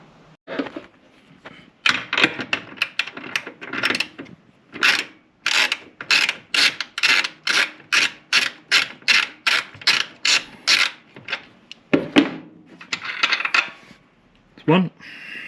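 A ratchet works at Torx bolts on a Ford Transit camper's handbrake, a quick train of sharp metallic clicks in bursts with brief pauses, close and fairly loud, alone without talk.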